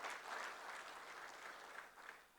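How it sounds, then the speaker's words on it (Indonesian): A crowd at a Golkar party regional congress in North Sulawesi applauds the party seniors, a steady wash of clapping heard from a moderate distance. "Kita berikan aplaus kepada para senior."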